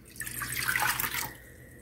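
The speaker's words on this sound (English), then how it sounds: "let me pour this water in here." Water splashes into a pot for a cream of chicken soup in a brief pour of under two seconds, close by and with no talking.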